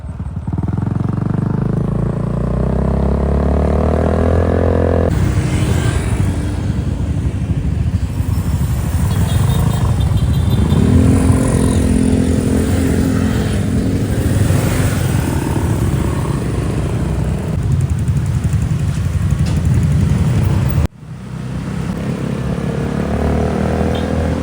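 A motorcycle engine runs steadily and loudly up close during a ride, with a short drop in sound near the end.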